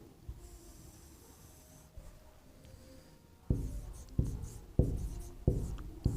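Pen writing on paper during a class 10 trigonometry maths lesson, quiet faint scratching at first, then four firmer strokes with sharp onsets in the second half, close up with no talk.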